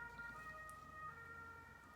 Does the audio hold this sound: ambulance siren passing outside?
yes